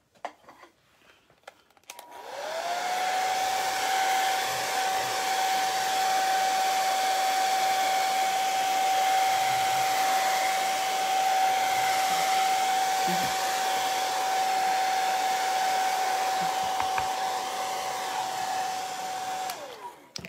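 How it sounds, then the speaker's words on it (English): A hair dryer blows steadily at close range for about eighteen seconds, a constant whooshing roar with a high motor whine that starts and cuts off cleanly. "I'm gonna hit it with the blow dryer just super fast"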